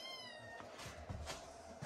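A small kitten meows and cries for its mother, several thin, high plaintive mews in quick succession, close but soft, with no talk.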